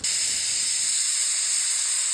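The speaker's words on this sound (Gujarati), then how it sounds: "કુકર બંધ કરીને 4 થી 5 સીટી થવા દેશું." A pressure cooker vents steam while cooking a cluster bean and potato curry with red chili and coriander powder. A steady, loud, high hiss carries on unbroken, with no one talking.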